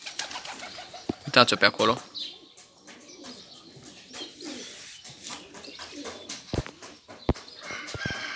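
Pigeons in a loft cooing and fluttering, with soft repeated coos and scattered wing flaps and clatter, a person speaking briefly over them.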